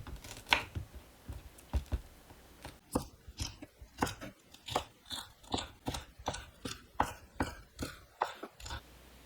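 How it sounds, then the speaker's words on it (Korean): Knife cutting two deseeded mild red chili peppers into thin strips on a board, heard as a series of crisp, evenly spaced chopping taps, close and fairly quiet, with no voices. "맵지 않는 빨간 고추 2개를 씨 제거하고 채 썰어주세요."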